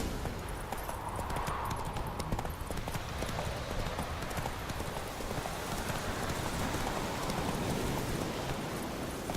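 Roach the horse gallops in The Witcher 3, hoofbeats drumming in a fast, continuous clip-clop over a dense, steady ambient wash, loud and close throughout.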